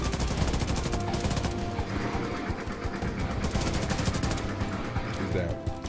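Sustained gunfire in a Division 2 firefight, with rapid automatic bursts and overlapping shots running continuously and loudly throughout, dense and close, and a voice faintly underneath.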